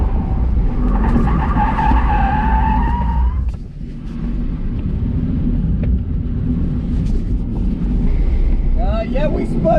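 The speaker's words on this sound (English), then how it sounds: "we spun out there pretty aggressively" A Mini Cooper SE spins out hard during an SCCA autocross run, tires skidding and squealing under heavy wind buffeting from an onboard microphone, followed by rumbling road noise and a few brief chirps.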